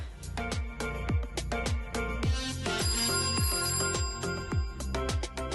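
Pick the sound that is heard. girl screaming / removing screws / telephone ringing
telephone ringing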